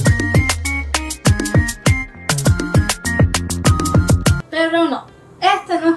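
Reggaeton music plays with a punchy, rhythmic bass-and-drum beat and bright synth stabs, followed by a short burst of chopped vocal-like sounds near the end.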